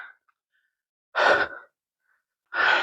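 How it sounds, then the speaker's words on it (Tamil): Two heavy, breathy exhales, loud and close with silence between, from a hiker trekking uphill through dense forest toward Thalamalai Sanjeevi Perumal Temple. "கொஞ்சம் மூச்சு வாங்குது."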